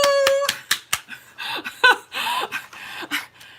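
A handful of quick hand claps at the start, given as applause for Sandy on an online crafting call, followed by scattered laughter and cheerful voices.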